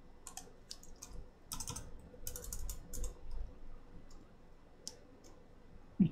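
Keyboard typing while writing web page markup code, a run of quiet clicky keystrokes in short bursts with pauses, close and fairly soft, with no talking.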